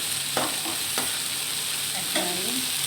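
Palta leaves and brinjal frying with dried chilli and panch phoron, a steady close sizzle broken by a few soft stirring scrapes of a spatula in the pan.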